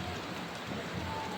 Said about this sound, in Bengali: তেমন হারে বাইরে বৃষ্টি হচ্ছে